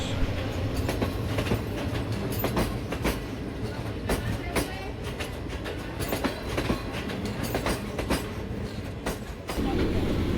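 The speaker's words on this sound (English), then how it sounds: "We cross paths with the express train from Guantanamo to Havana, hauled by a Chinese-built DF7 locomotive with brand new Chinese passenger coaches" A Chinese-built DF7 diesel locomotive hauls the Guantanamo–Havana express with new Chinese passenger coaches in Cuba, a steady loud rumble of wheels and engine with repeated clickety-clack rail joints passing close by throughout.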